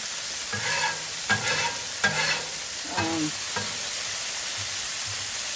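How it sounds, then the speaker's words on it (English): Bacon fat sizzles steadily on a hot griddle, with a few scraping, clattering strokes of a utensil over the hiss. "just melting some of the fat down because I don't want my veggies ducked in bacon fat"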